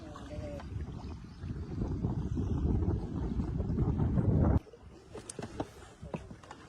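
A fishing boat pushes forward on open water with its net trailing, heavy wind buffeting and rushing water loud for the first few seconds, then dropping to a quieter wash with scattered knocks and splashes.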